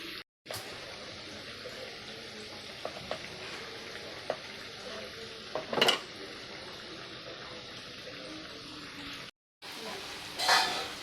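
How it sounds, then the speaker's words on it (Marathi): Layered pudachi batti dough rounds deep-frying in hot oil, a steady soft sizzle and bubbling heard close up, broken by a few utensil clinks and short louder spatters. "आता मी सगळ्या बट्ट्या तळून घेते"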